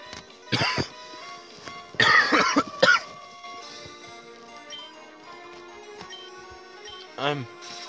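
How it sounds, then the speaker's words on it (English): A person coughs in harsh bursts: one cough, then a cluster of hacking coughs, and another cough later, loud and close over quiet Pokémon video game music. "I'm coughing so bad."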